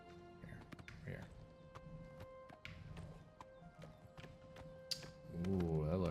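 Horse hooves clip-clop in a steady rhythm in the Elder Scrolls IV: Oblivion Remastered video game, with occasional whinnies, and a game voice talking over the hoofbeats.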